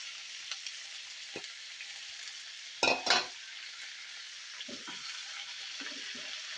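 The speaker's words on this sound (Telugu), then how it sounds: "దీనిలో పచ్చిమిర్చి వేసుకున్నాం వీటితో పోతే బెండకాయ ముక్కలు కూడా వేసుకున్నామండి" Okra pieces and green chillies sizzling in oil with chana dal for a sesame okra chutney, a soft steady fry hiss with a couple of louder stirring scrapes in the middle and faint pan knocks.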